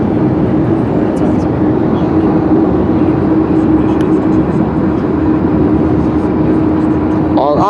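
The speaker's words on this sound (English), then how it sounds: "don't see either end of the train." Steady close roar and rumble of a very long container freight train of well cars passing near the Grand Canyon, continuous and loud, with a faint squeal appearing at the very end.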